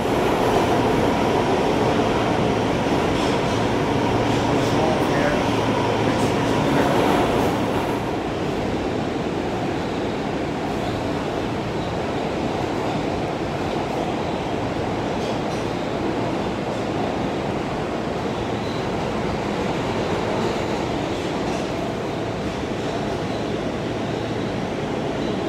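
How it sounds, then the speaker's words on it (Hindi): A New York subway F train in motion, heard from inside the car as a steady, loud rumble and roar of wheels on rails that stays constant throughout and eases slightly partway through. "This is the F train"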